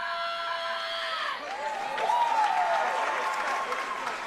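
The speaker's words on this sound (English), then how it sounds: "met with a roar from the crowd" Crowd at a martial arts championship in Atlanta applauds and cheers, the clapping swelling midway with a rising whoop carrying over it, while faint background talk runs beneath.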